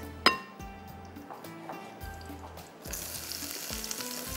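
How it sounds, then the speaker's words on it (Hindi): Onions drop into hot ghee and fry, starting with a sharp metallic clink, then a low bubbling before a loud, steady sizzle takes over close up. "यहाँ पर मैं डालती हूँ ये घी के अंदर जाएगी प्याज"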